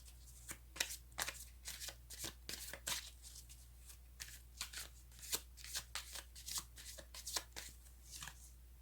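Tarot cards shuffled by hand in a run of crisp, papery riffles and slaps, steady and close over a low background hum, with no talking.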